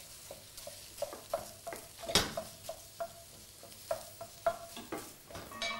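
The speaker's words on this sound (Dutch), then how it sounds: "Nou, het gehakt, runder gehakt. In de pan, lekker bakken." Minced beef frying in a pan with a soft sizzle, broken by repeated scraping and stirring strokes of a utensil against the pan and one sharper clatter, fairly quiet and close, no talking.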